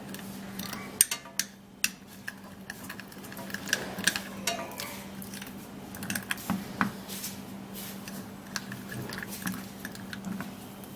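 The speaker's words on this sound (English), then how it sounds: "So have to be stirring this all up just like this." A homemade lip scrub mixture stirred by hand in a small container, giving soft scraping, clicking taps in an uneven rhythm over a steady low hum, close and fairly quiet.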